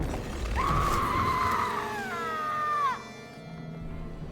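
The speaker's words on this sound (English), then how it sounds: "Climb up here and you'll hear her scream" A woman's high, sustained scream from the video game Indiana Jones and the Great Circle, loud and wavering for about two seconds, then dropping away into a quieter low ambient hum.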